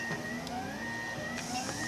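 A 3D printer at work on a small square test print, its stepper motors giving a steady whirring hum with sustained tonal whines and occasional brief clicks, close and moderately loud, with no voices.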